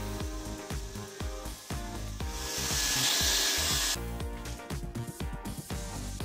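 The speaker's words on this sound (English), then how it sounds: "And run a quick polypropylene weld down it." A plastic welder runs a polypropylene weld in a fabrication shop, a steady hot-air hiss with an irregular run of scraping and tapping, loud and close, no talking.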